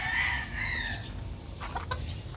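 A brood stag rooster with yellow legs and a straight comb crows loudly and close at the start, fading into softer clucking and farmyard bird calls over a steady low background rumble.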